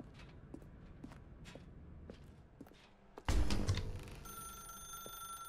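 Telephone ringing in The Stanley Parable: Ultra Deluxe, a sudden loud electronic ring that cuts in after a stretch of soft footsteps and keeps sounding steadily to the end.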